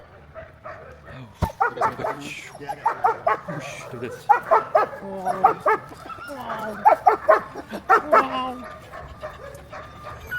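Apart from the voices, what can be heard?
dog barking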